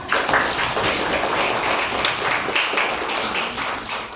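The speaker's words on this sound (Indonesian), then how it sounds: "kita beri aplaus dulu untuk kelompok 4" A classroom group applauds a presenting group, steady scattered clapping at moderate distance that continues without pause.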